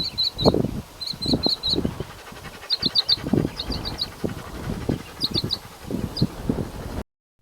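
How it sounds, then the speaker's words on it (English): Short bursts of high, rapid bird chirps repeat outdoors in clusters, over low rumbling wind and handling noise. "you could hear the bird"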